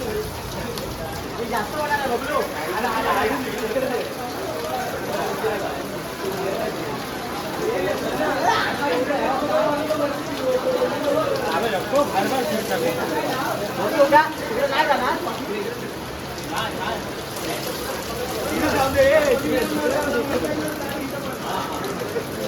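Heavy monsoon rain pours outdoors in a Konkan village during a Satyanarayan puja gathering, a continuous loud wash of rain with people talking and calling out underneath.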